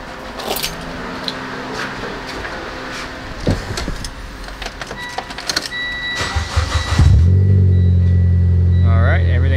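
Mitsubishi Lancer with a relocated battery: keys jingle and cabin clatter give way to the engine cranking and catching, then a loud, close, steady idle rumble, with a voice talking briefly over it.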